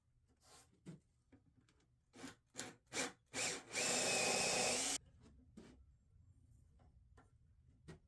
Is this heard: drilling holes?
yes